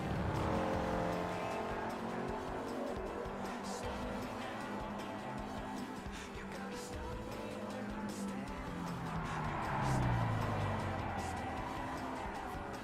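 A shifter kart slides through a corner in a racing sim, with a steady engine drone and a tire squeal that rises and falls near the end, heard at moderate level with no talk.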